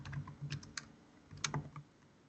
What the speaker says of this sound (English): I'm not great at talking and typing at the same time